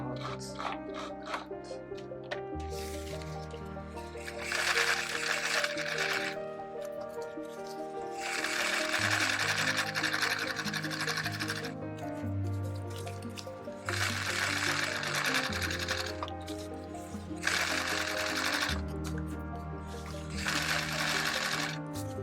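A sewing machine stitches the lining of an Azumabukuro bag, set 1.5 centimeters in, its motor whirring in several steady bursts of a few seconds each, separated by brief pauses, close and fairly loud with no talking.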